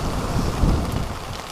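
Heavy rain pours down on a beach at night in winter, a dense, steady roar mixed with wind buffeting close to the microphone.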